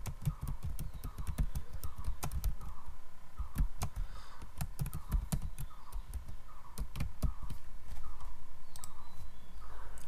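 Fast, steady typing on a computer keyboard while entering an invoice in Excel, crisp key clicks in bursts with louder thumps mixed in. The clicks sound close and come with no talk.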